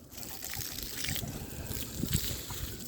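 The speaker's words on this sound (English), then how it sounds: "all we have to do now is water it" Water pours from a hose or can onto soil around a newly planted juniper shrub outdoors, a soft, continuous splashing and trickling with faint wind in the background.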